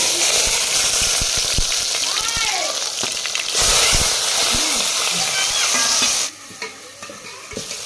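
Cut vegetables dropped into hot oil burst into a loud crackling sizzle, with spoon clatter and stirring scrapes close by, then the frying drops quieter toward the end.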